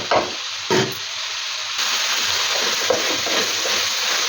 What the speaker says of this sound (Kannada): ಈಗ ತರಕಾರಿಗೂ ಕೂಡ ಒಂದು ಸ್ವಲ್ಪ ಉಪ್ಪನ್ನು ಸೇರಿಸ್ಕೊಂಡು ಫ್ರೈ ಮಾಡೋದ್ರಿಂದ ಚೆನ್ನಾಗಿ ತರಕಾರಿಗೆ ಉಪ್ಪು ಅಂಟುತ್ತೆ